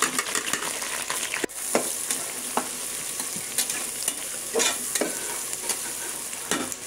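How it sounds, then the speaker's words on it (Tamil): Onions, chillies and mint fry in hot oil for biryani, a close, steady sizzle broken by repeated clattering stirs against the pan. "வெங்காயம் நல்லா எண்ணெயில் வதங்கட்டும்."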